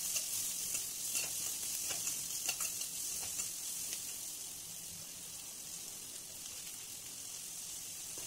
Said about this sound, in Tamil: பச்சை மிளகாய், வெங்காயம் எல்லாத்தையும் சேர்த்து நல்லா வதக்குங்க